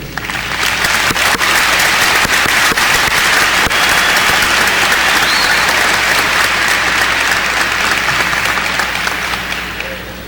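Sustained applause from a large crowd at a high school graduation ceremony in Joplin, welcoming the Missouri governor, loud and dense throughout and fading slightly at the end.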